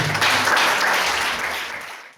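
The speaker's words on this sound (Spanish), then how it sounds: "Dale un fuerte aplauso al Señor" Congregation at a sermon gives a short burst of loud applause, a dense wash of clapping that swells quickly, holds, then fades out in just over two seconds.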